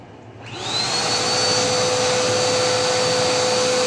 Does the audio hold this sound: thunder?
no